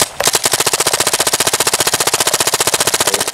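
A paintball marker fires a rapid, evenly spaced burst of about fifteen shots per second, loud and close, a sharp rattling stream of pops that continues throughout.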